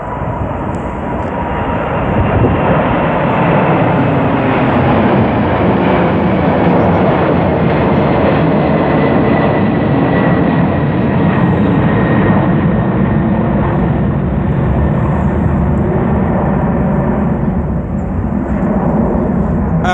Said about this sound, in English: I can hear something else coming out of Birmingham Airport. I think this will be a National Airlines flight bound for Stuttgart.